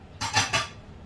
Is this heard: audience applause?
no